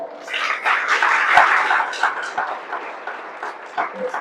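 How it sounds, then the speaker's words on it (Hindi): An audience claps loudly at a motivational talk, a dense, sustained burst of applause that stays strong throughout before thinning slightly near the end. "जोरदार ताली बजाओ"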